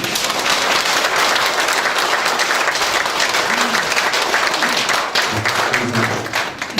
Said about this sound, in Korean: 다 함께 격려 박수하시기를 바랍니다.